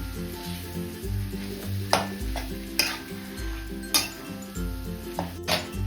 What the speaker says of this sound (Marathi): आणि आता हे उकडलेले बटाटे आपल्याला यामध्ये टाकायचे। परतून घेऊया।